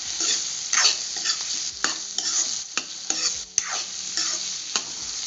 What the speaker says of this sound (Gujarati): હવે ટમેટાને પણ આપણે હલાવી લઈશું।